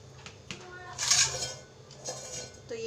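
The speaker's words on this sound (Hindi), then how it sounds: "ये वाला बर्तन ले रही हूँ मैं, इसमें आटा छान लूँगी पूड़ियों के लिए।" Metal utensils clink and clatter in a home kitchen as a pan is picked up to sift flour for puris, with a louder burst of rattling in the middle and softer knocks around it.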